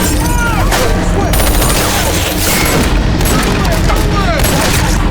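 An intense gunfight in a post-apocalyptic film, with loud bursts of rapid gunfire, booming shots and ricochet-like whines under a dense, continuous din, with voices mixed in.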